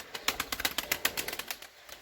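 A domestic pigeon's wings flutter and flap in quick, close bursts as it readies to fly, a rapid run of soft slaps that fades near the end, with no talk.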